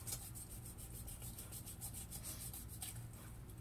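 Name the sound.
knife cutting through chicken joint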